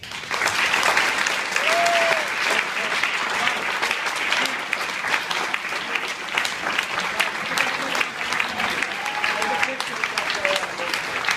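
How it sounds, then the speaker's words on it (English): Sustained audience applause after a Courage Award speech on pancreatic cancer, a dense steady wash of many hands clapping that carries on for several seconds, with faint voices and a brief cheer surfacing underneath. "Let's give him a round of applause."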